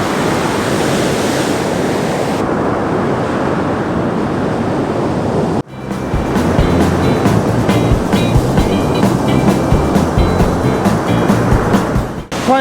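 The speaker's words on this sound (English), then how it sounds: "We've also got some nice big waves." Big sea waves under grey skies produce a loud continuous roaring wash, which cuts abruptly midway into a different, steadier surging rush of surf.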